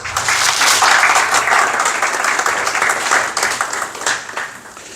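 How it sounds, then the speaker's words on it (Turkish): Applause from members of a Turkish toy makers' association greeting their new board, a full, steady burst of many hands clapping that swells early and gradually tapers off. "Yeni kur, yönetim kurulu için bir alkış rica ediyorum sizden."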